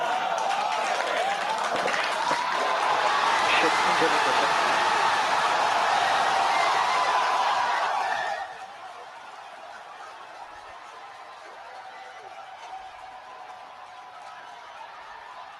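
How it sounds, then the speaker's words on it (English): A crowd roars and cheers at the first successful hot staging of a SpaceX Starship, a loud, continuous wash of noise for about eight seconds that cuts abruptly to a quieter background with an announcer speaking. "We're hearing the cheering. The first ever successful hot stage for SpaceX's Starship."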